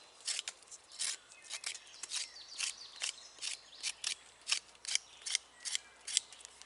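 A pocket knife with a rubberized grip and locking blade shaves wooden stakes outdoors in quick, regular scraping strokes, each a crisp close rasp repeating about twice a second, with faint birds behind.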